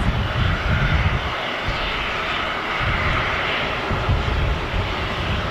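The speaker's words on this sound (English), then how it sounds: "Here goes the Jet2 A321." A Jet2 Airbus A321 airliner roars past at Manchester Airport, its engines giving a loud, steady broadband rumble and whine that holds throughout with no voices.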